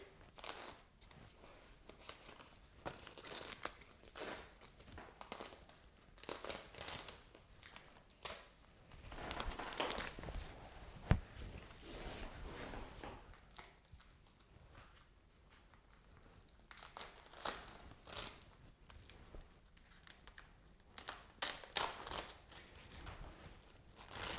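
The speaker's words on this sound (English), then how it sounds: "Pull out the pins, take off the tape." Tape is peeled and pulled off the wing of a taxidermy pheasant mount, with soft, close crinkling, tearing and scratchy handling noises in irregular bursts and no talking.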